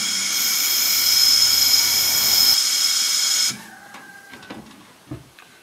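An aircraft spark plug cleaning unit runs with a loud, steady high-pitched blasting hiss for about three and a half seconds, then cuts off, leaving faint clicks and handling noises.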